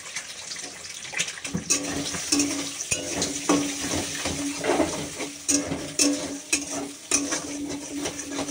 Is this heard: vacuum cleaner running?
no